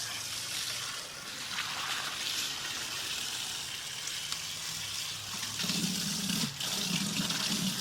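New aquarium sand is rinsed by stirring it in water and pouring it out, giving a continuous close sloshing and splashing with a gritty pour toward the end and no talking.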